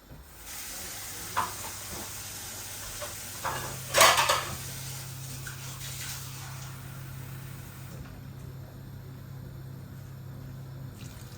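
Water poured into a pan of tomato curry brings a brief burst of splashing and sizzling under a steady low cooking hiss, with light clinks of utensils against the pot.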